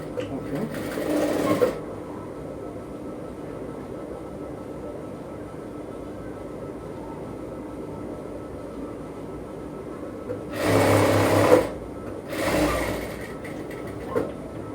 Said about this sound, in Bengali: এবার আমি এদিক থেকে ধরে এটাকে সেলাই করে নেব।